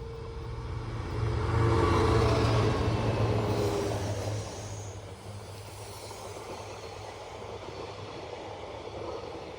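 Class 66 diesel locomotive 66739 hauls a train in early summer morning, a low steady diesel rumble with wheel noise that swells for a few seconds, then settles to a quieter, distant drone.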